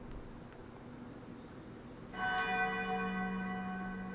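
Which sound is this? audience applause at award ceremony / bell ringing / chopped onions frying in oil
bell ringing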